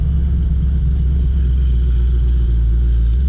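Chevrolet Camaro SS with LT1 engine driving on the road with traction control off, a steady heavy low rumble of engine and road noise filling the cabin, continuous and loud with no talking.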